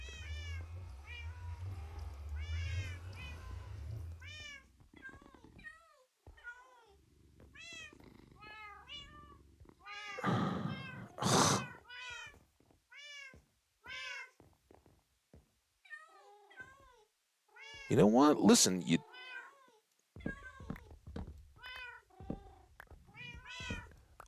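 Several cats meow repeatedly in a video game, a steady run of short calls with a few louder, harsher bursts, while someone talks now and then in between.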